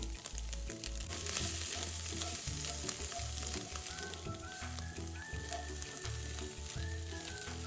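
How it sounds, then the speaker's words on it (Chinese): Chinese sausage and shiitake mushrooms stir-fried in a wok for lotus leaf rice, a continuous loud sizzle with steady scraping and tossing of the spatula, no voices. "腊肠煸一煸香， 再加入备好的香菇，"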